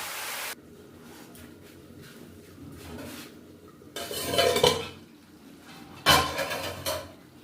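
Chicken curry is stirred in a pot with a little water in a village kitchen: quiet scraping, then two bursts of metal spoon clanks and scrapes against the pot, close by.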